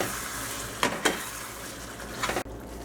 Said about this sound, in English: I'm going to move the spices again, make it on low